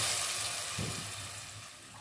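Water poured into a cooking pot of mixed meat, spices and chopped onions for a Pakistani bhindi gosht, a soft steady hiss and splash that slowly fades over about two seconds.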